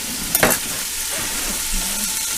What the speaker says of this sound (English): Now all of these I'm going to add to the browning bacon.